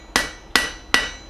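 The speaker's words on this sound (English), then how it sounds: "Hammering will cause the steel to move out in equal directions all around" Three sharp, evenly spaced hammer blows ring out on hot steel while forging a knife, each strike a bright metallic clang with a short decay, close and alone.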